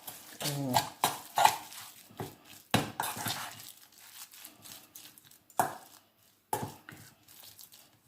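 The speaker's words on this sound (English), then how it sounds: "Now all we need to do is mix and really give it a good mix to combine all those flavours." A pork and prawn dim sum filling is stirred in a bowl, making scattered wet slaps and spoon clacks in irregular bursts, with a voice speaking softly now and then.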